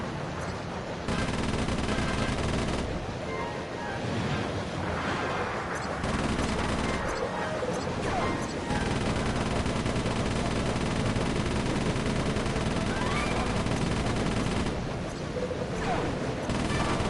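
Cannon fire in the game Sly Cooper 3: dense, loud bursts of rapid booming gunfire that run almost unbroken, with a few short lulls, against a busy game mix.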